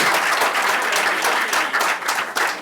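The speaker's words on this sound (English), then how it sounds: "Big round of applause for these amazing gentlemen." An audience applauds at the launch event of an app by cricket legend Mahendra Singh Dhoni, a short, loud and dense burst of clapping that stays full throughout.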